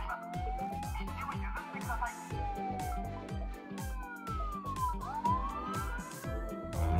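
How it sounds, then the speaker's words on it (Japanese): A Tomica toy patrol car plays an electronic police siren, sweeping wails over a steady repeating low beat, loud and continuous throughout. "アナウンスが鳴って緊急車両が通りますと、みんなに警告してるね。"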